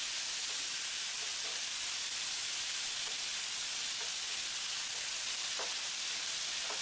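Potato pieces frying in a pan give a steady, dense sizzle throughout, close and even, with a few faint scrapes as they are stirred.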